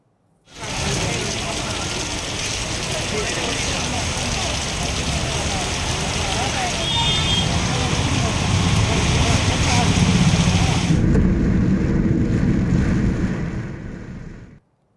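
Heavy rain pours down steadily on roads and surrounding areas around Ooty, Coonoor and Kotagiri in the Nilgiris, a dense, loud, unbroken hiss of downpour with a low rumble of runoff beneath, continuing throughout without voices.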